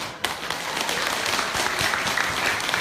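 Audience applauding steadily at a Buddhist temple dharma talk, a dense continuous wash of many hands clapping that holds at an even loudness throughout.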